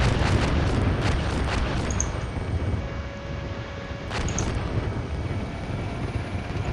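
Artillery fire mission explosions in the Steel Beasts Pro tank simulator, a heavy continuous rumble of distant impacts with several sharper bursts rising out of it.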